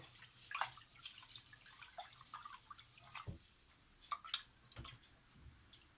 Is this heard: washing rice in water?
yes